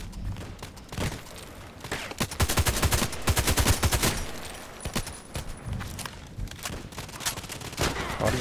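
Rapid bursts of HK417 rifle fire in a video game, loud and close, with dense volleys clustered in the middle and scattered shots continuing to the end.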